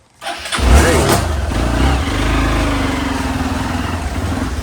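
A motorcycle engine starts with a sharp catch, then settles into a steady, loud idle close by, with no voices.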